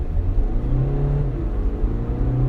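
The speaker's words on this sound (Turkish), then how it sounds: "Şöyle dip gaz yaptım bir kalkalım." A Hyundai Tucson Elite Plus diesel 4WD SUV pulls away at full throttle, its engine droning loud and close with a rising, strained rumble heard from inside the cabin.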